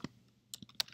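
Quick keystrokes on a computer keyboard: a handful of crisp, close clicks tapped at an irregular pace within about a second, with no voice.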